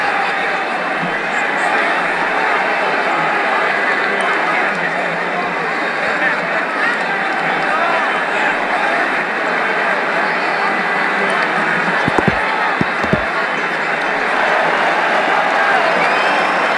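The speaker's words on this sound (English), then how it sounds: "The crowd enjoyed that shot." A cricket stadium crowd at a Pakistan versus Sri Lanka one-day international roars and applauds steadily after a shot, a broad, sustained wash of distant cheering with a few brief knocks near the end.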